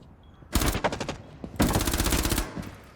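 Two loud, close bursts of rapid automatic gunfire in Rainbow Six Siege X, each about a second long, separated by a brief gap.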